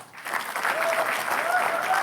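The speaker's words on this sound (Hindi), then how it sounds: "तो प्लीज और जोरदार तालियों से स्वागत किया जाए" Audience at a comedy roast show breaks into steady, enthusiastic applause, filling the room evenly from start to finish.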